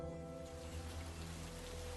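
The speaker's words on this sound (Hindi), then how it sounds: "बाहर बारिश भी होने लगी थी।" Rain falls steadily outside in the hills as a story sound effect, a soft continuous patter under a low, even hum, with no voices.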